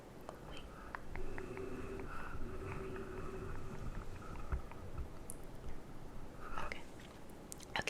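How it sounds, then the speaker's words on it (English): Light gum chewing close to the microphone, soft wet smacks and clicks repeating in a loose rhythm over a quiet, hushed background. "I'm also chewing gum."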